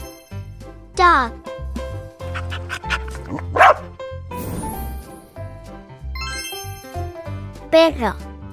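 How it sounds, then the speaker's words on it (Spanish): A pet dog barks in a children's lesson on English and Spanish animal names, giving a few short, bright barks spread across the clip over a light musical backing. "Dog."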